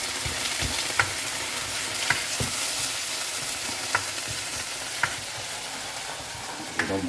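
Pea and potato curry with red onions is stirred in a hot pan: a constant frying hiss punctuated roughly every second by crisp spatula clicks and scrapes against the pan, close and fairly loud.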